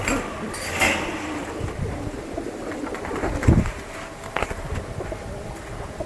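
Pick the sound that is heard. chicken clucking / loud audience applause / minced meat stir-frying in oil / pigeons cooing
pigeons cooing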